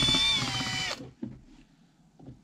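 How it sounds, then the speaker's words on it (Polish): Cordless drill driver running in a short loud burst of about a second with a high whine, then cutting off, followed by quiet handling clunks. "Dobra, może sobie wezmę wkrętarkę."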